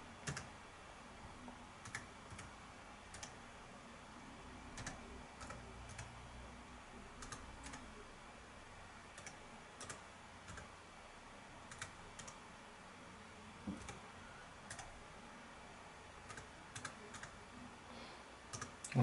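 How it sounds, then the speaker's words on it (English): Keys clatter softly on a Dell E6400 laptop keyboard as a BIOS password is entered, a quiet, irregular run of light taps spread across the whole stretch over faint background hiss. "Okay, let's type it again."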